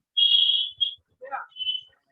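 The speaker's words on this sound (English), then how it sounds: "Whistle is coming." Short whistle blasts heard in isolation: a long steady tone, a brief second toot, then a lower warbling phrase and a final short high note, fairly clear against a quiet background.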